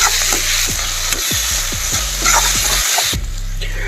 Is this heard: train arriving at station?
no